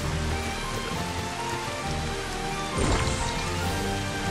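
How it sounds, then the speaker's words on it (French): Steady rainfall in Final Fantasy XV, a constant dense patter on surfaces with a low layered ambience beneath and a brief swelling rumble midway. "j'aime beaucoup la pluie pour le coup. Elle est vraiment très très belle."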